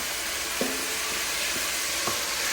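Shrimp being stirred in hot oil in a pan, giving a steady sizzle with a few soft scrapes of the spoon, close by with no talking.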